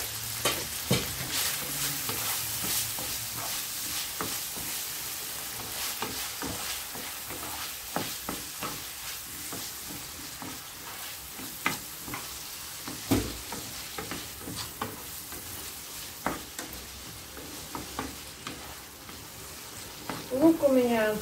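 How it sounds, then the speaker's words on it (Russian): Diced onion sizzles steadily in butter and oil in a pan for chicken thigh in cream sauce, with frequent scraping stirs and light utensil clinks over the soft, continuous frying. "Лук начал обжариваться."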